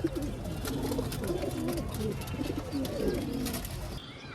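Pigeons shut inside an enclosure against the cold coo repeatedly in low, throaty rolling calls, several birds overlapping close by, with faint rustling underneath.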